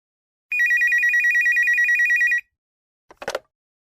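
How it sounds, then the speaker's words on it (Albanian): A telephone rings once at night: a loud, trilling electronic ring lasting about two seconds, followed by a brief clatter, with no voices. "Atë natë kur telefoni ra"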